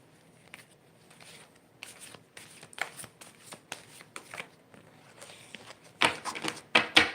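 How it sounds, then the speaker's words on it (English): A deck of cards is shuffled by hand at close range, giving quiet riffling and soft slaps that build into louder, quicker bursts of card clatter toward the end, with no talk over them. "I'm just shuffling for the moment."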